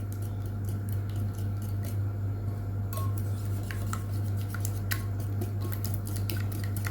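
Omelette eggs being mixed in a bowl with a utensil: rapid, steady clicking and tapping strokes against the dish, close and fairly quiet over a constant low kitchen hum, no talk.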